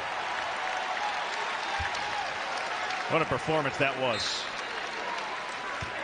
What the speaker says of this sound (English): he will get a nice applause here.